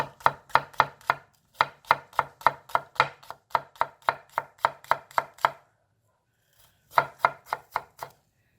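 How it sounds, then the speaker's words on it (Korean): A knife chops green onions steadily and rapidly on a cutting board, crisp close knocks in quick runs, pausing briefly before a few final strokes. "그냥 가늘게 다지시면 돼요"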